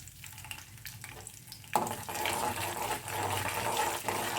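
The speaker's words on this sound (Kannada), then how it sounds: "ಇದು ಚಟಪಟ ಅಂತಿದೆ ಈಗ ಸ್ವಲ್ಪ ಕರಿಬೇವು ಸೊಪ್ಪು ಹಾಕಿದ್ದೀನಿ" Spices and curry leaves crackle and splutter in hot oil for a tangy tamarind chutney, a quieter sizzle jumping to a loud, dense popping crackle about two seconds in that keeps going steadily to the end.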